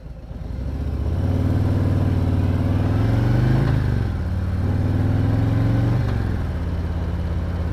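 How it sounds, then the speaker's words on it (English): Loud Harley-Davidson motorcycles at the Port Dover Friday the 13th rally in 2022 rumble past close by, engines swelling, easing off and surging again in two passes. "our fill of loud Harley motorcycles"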